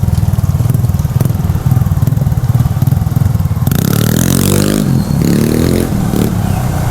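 A scooter being revved hard while pulled up into a wheelie, its buzzing engine loud and close throughout, pitch rising and swelling as the throttle opens midway, with a brief dip before surging again.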